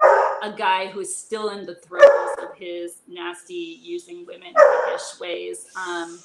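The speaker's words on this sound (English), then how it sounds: "sorry for the dog in the background." A dog barks and yips in the background, partly masked by close, continuous conversational speech that dominates the foreground.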